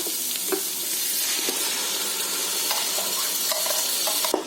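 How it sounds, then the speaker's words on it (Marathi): Tomato puree frying in oil in a pan for a Konkani chicken dish, a steady soft sizzle with occasional scraping stirs and clinks of the spoon. "हे टोमॅटो पण आहे ना छान एकदम तेल सुटेपर्यंत फ्राय करून घ्यायचा"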